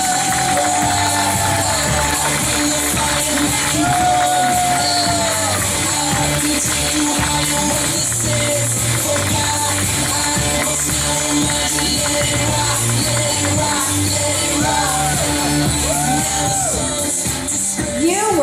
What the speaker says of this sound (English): please give a warm round of applause and welcome to the stage